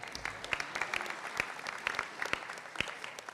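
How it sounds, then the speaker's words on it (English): Audience applause at a university white coat ceremony for incoming medical students, a steady patter of clapping across the hall with sharper individual claps standing out, moderately close and unbroken by speech. "Give her another round of applause for that."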